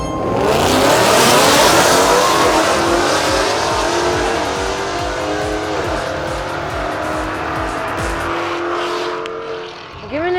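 At a drag strip, a car with an aftermarket intake and exhaust revs loudly while staging, a raspy roaring engine that surges and then holds high before easing off near the end.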